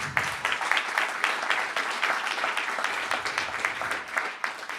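An audience at an evening community event on transportation equity gives a round of applause in the venue: dense, steady clapping from many hands that fills the whole stretch at even loudness.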